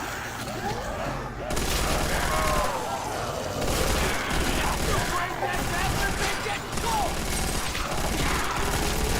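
Rapid gunfire crackles through a Call of Duty: World at War Zombies match, bursts of weapon fire and mechanical reload clatter layered densely over game noise, loud and close throughout.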